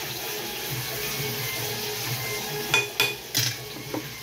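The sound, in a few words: washing pots and dishes in a sink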